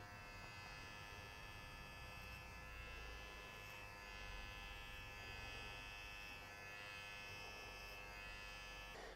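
Electric hair clipper buzzing steadily during a basic men's haircut, a continuous close, even hum with faint variations as it cuts, no talking.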